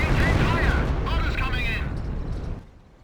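Artillery barrage in the Company of Heroes video game, heard as a steady rumbling of explosions with whistling shells overhead, fading out toward the end, under a talking voice.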